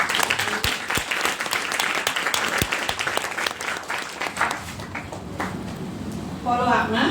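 An audience at a business talk claps in a big round of applause, sharp individual claps over a dense wash that thins out before a voice starts speaking near the end.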